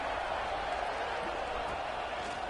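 A dense, steady roar rises from a big college football stadium crowd at Rutgers, urging on the defense before a red zone stop, filling the air without a break.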